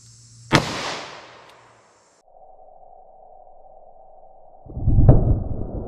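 A single sharp Buffalo Bore .380 ACP+P pistol shot fired into a simulated gut-shot test target, loud and close with a brief decaying ring, followed by a steady tone and a later burst of rustling noise.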